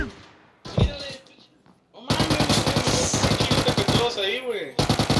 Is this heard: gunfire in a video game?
yes